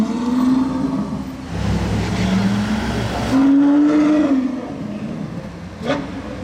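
Sports car with a Novitec aftermarket exhaust, likely a Lamborghini, revving and passing nearby with a loud rising and falling engine note, ambient street noise around it.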